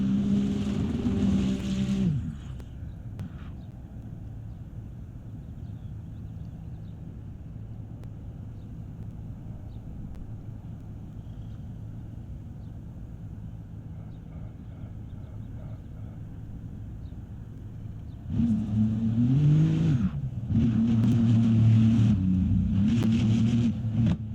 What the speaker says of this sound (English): I'm just gonna let you watch this Ferrari 296 GT3 absolutely shred those rear tires